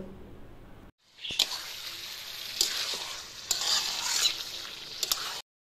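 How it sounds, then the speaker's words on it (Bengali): Meat marinated in yogurt, mustard oil and spices sizzles steadily as it is sautéed in a pan, a close, constant frying hiss with occasional stirring clinks. "এবার মা মাংসটা কষাচ্ছে।"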